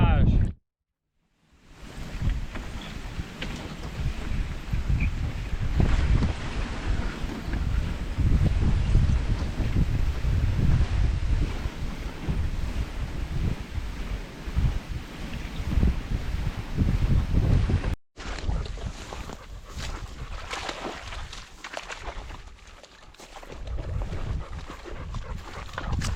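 Wind gusting across a wilderness lake on a solo canoe trip, a steady loud broadband roar with rustling buffeting, briefly cutting out near the start and again before a somewhat quieter final stretch.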